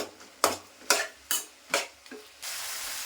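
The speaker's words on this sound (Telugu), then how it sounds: "ఈ కర్రీ చేసిన అంతే టమాటా వేసానంటే ఇట్లా స్మాష్ చేసేస్తాను" Tomatoes are mashed hard in a hot frying pan for sambar, making five rhythmic, close thumping scrapes. After the last stroke a steady, bright sizzle takes over.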